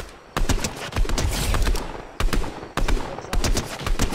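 Gunfire in Fortnite comes in rapid, loud, close bursts of automatic shots, broken by brief pauses, with no talk over it.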